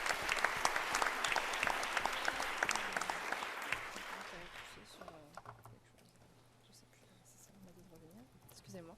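An audience at an evening lecture gives a burst of applause that fades away after about four seconds, and then a lone voice speaks quietly in the near silence that follows.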